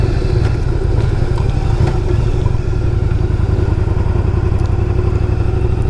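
A 2001 Yamaha V Star 1100 motorcycle engine rumbles loud and close with a steady, throbbing low thump and light mechanical clatter throughout, no voices.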